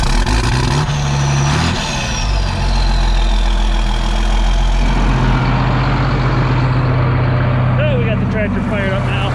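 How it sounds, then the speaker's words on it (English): A 4055 tractor engine turns over and catches, then settles into a steady low diesel idle close by, with a voice talking briefly partway through. "Tractor fired up now."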